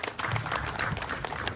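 Brief burst of audience applause at a village outreach meeting in Parishara, South Rupununi, a crowd clapping steadily and fairly quietly.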